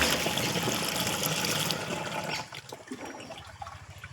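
Liquid pesticide poured into a sprayer pump on a farm, a steady splashing pour for about two seconds that then thins into lighter trickles and drips.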